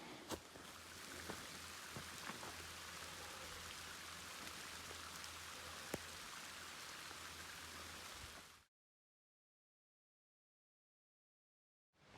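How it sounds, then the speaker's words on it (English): Steady rain from an afternoon thunderstorm patters and hisses continuously on the Pacific Crest Trail near Stehekin for about nine seconds, with occasional louder drops, then cuts to silence. "I don't know why it's even raining"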